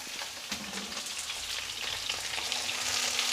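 Potatoes, pumpkin and eggplant frying in a pan over medium-high flame give a faint, continuous crackling sizzle with light stirring, steady and unaccompanied by talk.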